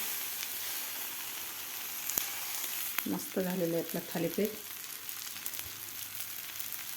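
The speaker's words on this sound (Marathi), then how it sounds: "आता थापून घेतलेलं थालीपीठ आपल्याला ह्या तव्यावर घालायचं आहे" Vegetable-packed green pea thalipeeth flatbread sizzles on a hot tava griddle with a steady close hiss. Someone speaks briefly in the middle over the frying.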